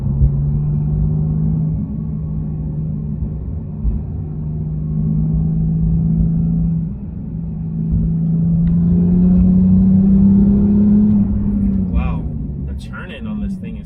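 Porsche 911 GT3 (2018, 991.2) engine droning steadily from inside the cabin while cornering on a road, with a low rumble that swells and shifts pitch slightly as the car turns, and a person talking over it.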